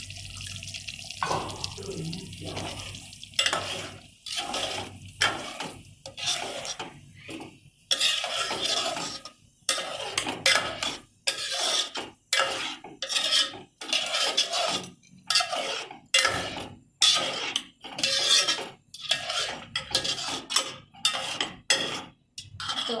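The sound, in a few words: stirring water into legume curry in a pot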